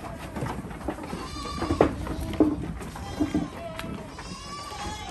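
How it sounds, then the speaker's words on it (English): Boer and Kalahari Red goats bleat on a farm at feeding time, several wavering calls rising now and then above a busy background of shuffling and low noise. "These are Boa and Kalahari red goats."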